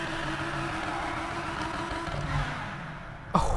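A widebody Audi R8 engine in Need For Speed Payback drones steadily as the car drives, a continuous mid-pitched hum with a brief sharp burst near the end.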